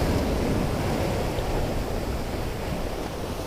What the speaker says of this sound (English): I think you can hear the splashing.